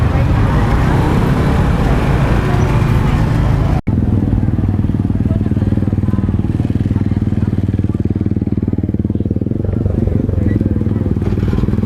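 Thai street traffic with mopeds riding past close by, a loud, continuous engine rumble and road noise that briefly cuts out before resuming. People talk over the traffic.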